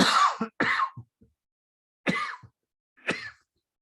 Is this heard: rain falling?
no